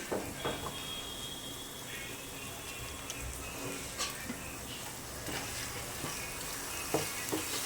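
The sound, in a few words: masala paste frying in oil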